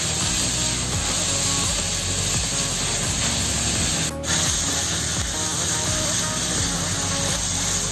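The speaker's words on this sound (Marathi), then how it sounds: "पूर्णपणे कांदा तांबूस कलरचा होईपर्यंत आपल्याला हे परतत राहायचं आहे" Onions frying hard and being stirred in a pan over a high gas flame for chicken sukka, a steady, loud sizzling hiss running throughout with faint scraping, broken by one brief sharp burst midway.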